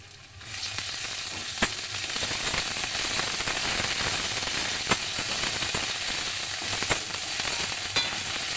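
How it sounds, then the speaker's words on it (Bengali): Garlic paste hitting hot oil with browned onions in a pan, a dense continuous sizzle that starts abruptly and holds steady, with a few sharp pops and clicks, close and alone. "এবার আমি রসুন বাটাটা দিয়ে দেবো।"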